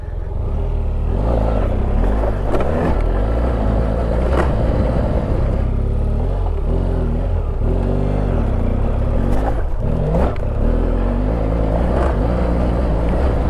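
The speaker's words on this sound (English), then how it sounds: "See the superbikes going around the Broadford road track." Superbikes race around the Broadford road track, their engines revving and rising in pitch as they pass, heard under a constant loud rumble of wind and a nearby motorcycle.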